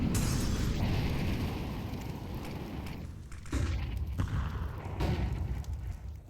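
Grenade going off in a Counter-Strike 2 pro match, a loud broad blast at the start that rumbles and fades, followed by a few more dull thumps and bursts.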